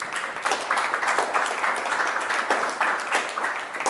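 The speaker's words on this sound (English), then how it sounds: "give yourself a round of applause for a second" A town hall audience applauds steadily, dense clapping from many hands that continues throughout at an even, loud level.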